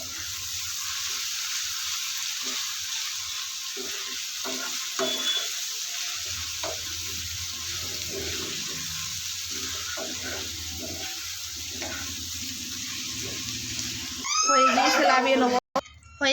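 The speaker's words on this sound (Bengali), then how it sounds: "হয়ে গিয়েছে কুমড়োর খোলা ভাজা" Pumpkin peel frying with potato, salt and turmeric in a pan gives a steady loud hissing sizzle, ending with a burst of sputtering and clatter near the end.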